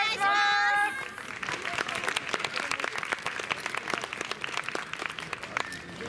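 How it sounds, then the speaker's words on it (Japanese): An audience claps along in a steady rhythm at a dance performance, the claps coming through crisp and close after a brief voice at the start. "皆様お手拍子お心拍子のほどよろしくお願いいたします"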